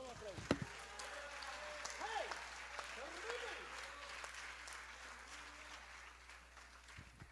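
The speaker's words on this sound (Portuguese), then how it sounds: "se você pode aplaudir ao Espírito Santo, vamos aplaudir" Church congregation applauds at a worship service, a soft, distant patter of clapping running beneath voices, with a sharp knock near the start.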